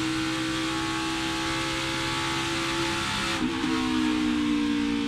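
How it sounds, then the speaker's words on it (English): NASCAR Xfinity Series race car engine at Pocono Raceway, a steady loud drone with a brief dip and shift in pitch partway through as the driver comes off and back onto the throttle. "You could hear the on and off throttle from him."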